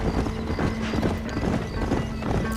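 A horse in the Western video game Red Dead Redemption, with hooves clopping rapidly and a neigh over busy game noise, loud and close.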